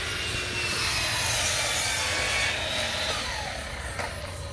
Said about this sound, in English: That grinder.